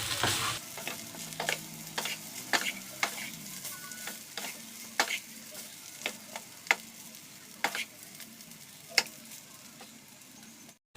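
Chicken fried rice is stirred in a pan after a splash of white vinegar, with a spatula scraping and clicking in sharp, irregular strokes about every half second over a soft sizzle.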